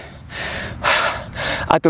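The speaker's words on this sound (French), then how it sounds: "En 48 secondes, j'ai réussi à m'essouffler." Heavy, ragged panting from someone out of breath after about 48 seconds of intense exercise, close and loud, with strong gasping inhales and a sharp catch of breath near the end.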